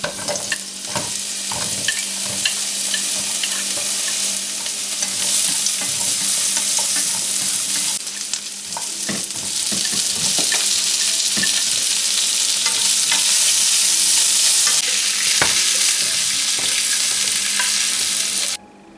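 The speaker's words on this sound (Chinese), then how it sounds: "加一点底油，葱姜蒜爆香" Scallion, ginger and garlic stir-fry in hot oil for a spicy quail dish. A loud, continuous sizzle carries throughout, with scraping and clattering as the aromatics are tossed, then it cuts off at the end.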